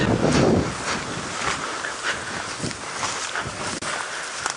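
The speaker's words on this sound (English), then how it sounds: "because it's windy" Steady wind buffets the microphone on a sunrise safari drive, a loud rushing roar with gusty swells throughout and no voices.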